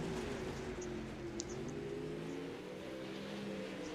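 A Pro late model race car on the final lap of a dirt track race at Lanier, its engine droning steadily and loud for the whole stretch, with a couple of faint higher clicks or squeaks over the roar.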